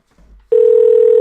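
A Skype call ring tone sounds as a loud, steady electronic tone that starts abruptly after a brief, faint murmur and then holds evenly.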